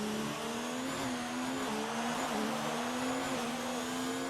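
Race cars drone through a sim racing video game, a continuous loud engine whine with slight pitch wavers as the cars lap, with no voices.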